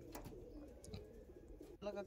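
Andhra pigeons in a loft coo softly and intermittently, quiet and close, with faint background noise and a brief rise at the end.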